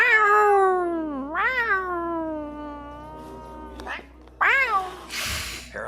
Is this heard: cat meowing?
yes